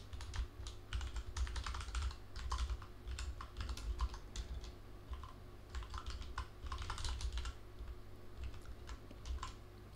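Steady computer keyboard typing as code is written during a C++ programming lesson, with dense bursts of key clicks and short pauses throughout, close and fairly quiet over a low background hum, with no speech.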